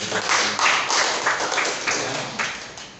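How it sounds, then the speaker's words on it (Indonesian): Audience applause at an education seminar, a steady burst of many hands clapping, loud and close, fading slightly toward the end with no talk over it. "Boleh tepuk tangan Bapak dan Ibu."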